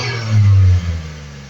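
Four-cylinder car engine heard close up, swelling briefly into a low, loud rev before settling back to a steady rumbling idle.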